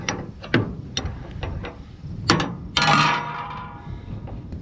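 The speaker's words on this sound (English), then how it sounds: "You kind of stick your wrench right in there and then you can go at her." A wrench turning a fitting clamped in a vise mounted on a work pickup makes rapid metallic ratcheting clicks, with a few louder clanks and a scraping burst near the end, up close.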